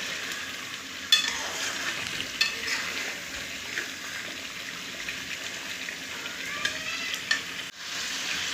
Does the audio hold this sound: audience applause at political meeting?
no